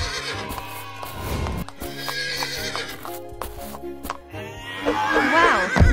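A cartoon horse neighs and whinnies repeatedly over light music, with clip-clop hoof sounds, the calls fairly loud and close.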